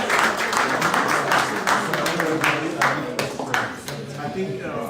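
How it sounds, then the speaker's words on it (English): An audience at an investment meet-and-greet in Glasgow claps together for a guest, a steady spatter of hand claps running throughout and easing slightly toward the end, with a voice speaking over it. "Can we clap for him,"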